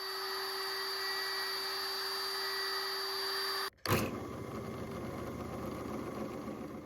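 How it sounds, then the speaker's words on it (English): A steady motor whine runs, cuts out abruptly, then a rougher grinding hum of a drill press starts up, drilling holes in resin pieces with a jig, continuing close by. "drill out the string holes"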